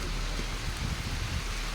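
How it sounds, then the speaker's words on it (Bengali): Rain falls outdoors during a dark morning storm, a steady dense wash of drops with a low rumbling undertone, continuous and fairly close. "বৃষ্টি শুরু হয়ে গেছে"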